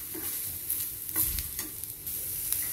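Ginger and green chili sautéing in a pan with garlic for aloo masala, a faint steady sizzle broken by a few scraping stirs of a spoon against the pan.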